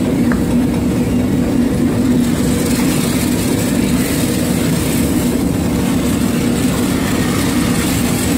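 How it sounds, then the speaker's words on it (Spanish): A steam cleaning machine used for washing motorcycles runs with a continuous, loud, low mechanical rumble and hiss. The drone stays steady and unbroken throughout, close by, with no talking. "Esa ahí es la máquina del vapor."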